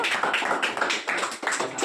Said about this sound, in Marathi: टाळ्या वाजवा मुलांनो